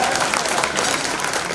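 Audience at a university alumni gala cheering and applauding, a dense, steady wash of clapping and crowd noise filling the room without pause.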